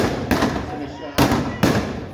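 Three loud gunshots crack in quick succession during an outdoor bank robbery reenactment in Northfield, Minnesota, each one echoing briefly, with a tighter pair at the end.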